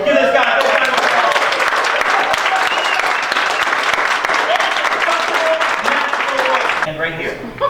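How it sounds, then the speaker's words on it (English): A crowd applauds a volunteer at a live magic show, with loud, sustained clapping and a few voices mixed in, tapering slightly at the very end. "Give this guy a round of applause"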